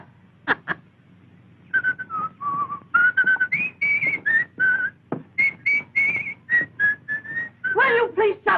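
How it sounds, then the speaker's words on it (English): A man whistles a lively, wandering tune indoors, the notes close and clear in short phrases separated by brief pauses, with a couple of sharp knocks near the start. "I can't whistle at night because you want to sleep"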